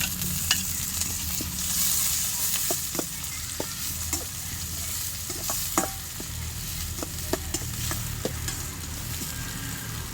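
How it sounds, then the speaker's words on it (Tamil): Tomato and onion sautéing in a pan for a Tamil dry fish fry, with a steady low sizzle and repeated sharp scrapes and clinks of a spatula stirring through the whole stretch, close and fairly loud, no talking. "அடுத்தது நம்ம தக்காளி ஆட் பண்ணிக்கலாம்."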